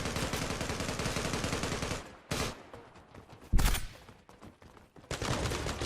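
Dense gunfire from a mobile shooter video game, with sustained automatic bursts, short gaps, and one sharp loud shot standing out partway through.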